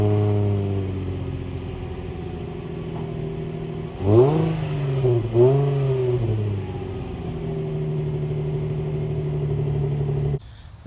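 A 2006 Infiniti G35 with dual exhaust idles with a deep steady rumble, then gets two quick throttle blips that rise and fall sharply before settling back to a smooth idle, close and loud.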